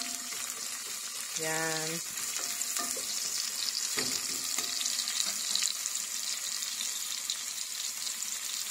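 Onions frying in a pan for chicken curry give a constant crackling sizzle with occasional stirring scrapes, and a voice briefly speaks early on.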